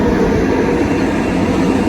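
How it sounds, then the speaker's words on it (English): Swiss mountain train rumbling past, a loud steady roar of wheels and rail noise holding close and continuous throughout, with no talking. "That's the train we took."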